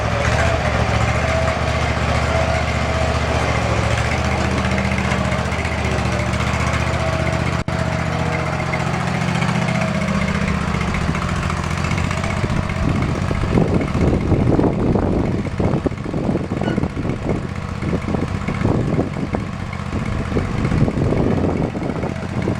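A lawn mower engine starts from cold after a long steady hum, then runs loudly with a rough, sputtering idle and uneven bursts close by, with brief voices in the background.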